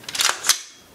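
Trigger pull on an AR-15 rifle: a couple of sharp, close cracks in quick succession, bright and snappy, fading quickly into near silence.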